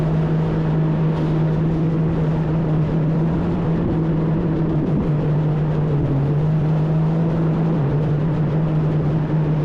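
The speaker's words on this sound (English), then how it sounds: "this really fast white boat went flying past us" A fast motorboat's steady engine drone runs throughout as it speeds past on Great Sacandaga Lake, loud and continuous with slight pitch shifts, over a wash of water and wind noise.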